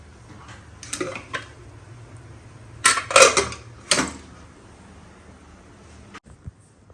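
Dishes, pots and pans are washed at home, with scattered clinks and clatters of metal utensils, a few louder bursts of clanking in the middle and quiet gaps between.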